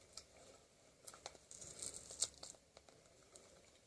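Tape is peeled and pried off the front of an NES console. Soft tearing, crinkling and scratching rustles come in quick irregular bursts close by.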